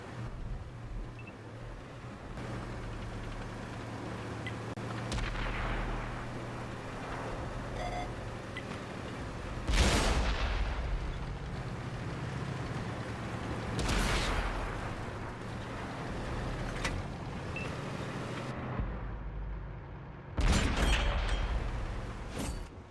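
Tank cannon shots in World of Tanks, heard as deep booms at spaced intervals over a steady rumbling engine and battlefield drone, with no speech.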